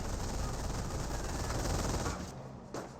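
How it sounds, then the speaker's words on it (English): An MG-42 machine gun in Company of Heroes rattles in a loud, unbroken stream of rapid fire that cuts off after about two seconds, then one short final burst follows. "And now the Grenadiers are being suppressed by the NG-42."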